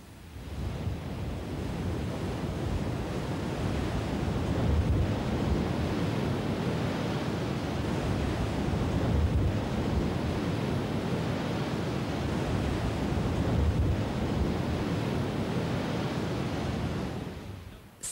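Steady ocean surf breaking along the cliff-backed beaches of the Alentejo coast in southern Portugal, a continuous broad wash of waves with wind noise, constant and fairly loud throughout with no speech.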